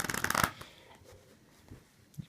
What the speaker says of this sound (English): it looks like you're actually shuffling and cutting.